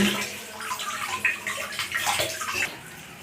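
Water runs and splashes in a kitchen while tilapia fish are washed, a soft continuous gush with small irregular splashes close by.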